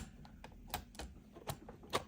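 Keys clack on a worn-out, stiff PowerBook 5300 keyboard. About half a dozen irregular, fairly quiet keystrokes are heard close up, with no talking.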